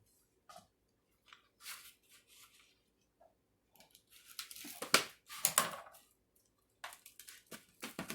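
Knife slicing through rolled spiedini meat rolls in a kitchen, with short bursts of crisp cutting and scraping that grow busier in the middle, scattered between quiet pauses.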